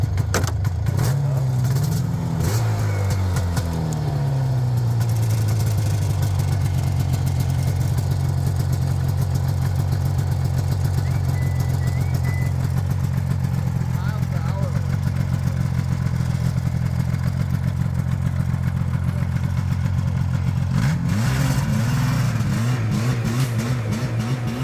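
A barn-find Yamaha SRV 540 motorcycle engine runs close by with a steady mid-pitched drone, rising in a revving sweep near the start and again near the end, with some clatter throughout.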